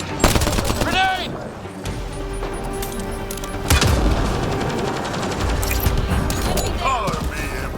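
Gunfire and a grenade blast in Mass Effect Andromeda combat: loud rapid bursts of shots with sharp impacts and a heavy thump midway, over dense game noise and a shouted warning.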